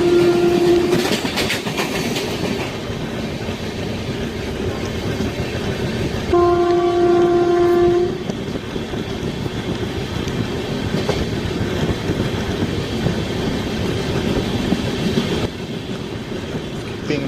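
The Venkatadri Express on its Chittoor to Kacheguda run rumbles and clatters steadily as it passes a station, heard from on board, with two loud horn blasts near the start and again partway through.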